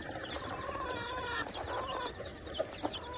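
Chickens cluck softly at close range over a constant noisy background, with a couple of sharper clucks near the end.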